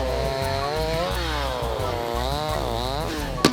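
A chainsaw runs steadily at close range while cutting thick wooden discs from a fallen tree trunk in a forest. The engine pitch rises and falls as the blade bites into the wood, and a sharp knock comes near the end.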